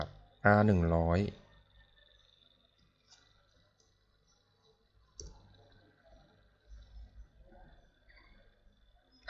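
A computer mouse clicks while drawing in a 2D CAD sketch program. A few sparse, soft clicks sound close by, after a brief voice at the start, over a quiet room hum.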